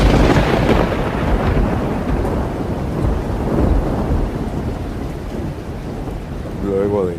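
A thunderstorm with steady, heavy rain and rolling thunder fills the whole stretch loudly and continuously, the rumble swelling near the middle before a brief tonal sound rises at the very end.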